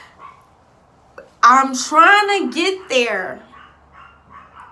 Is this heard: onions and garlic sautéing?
no